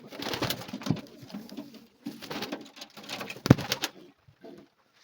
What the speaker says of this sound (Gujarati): બધા કબૂતરને નીચે ઉતારવી.